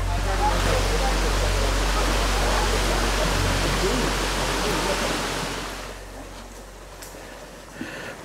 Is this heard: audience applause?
no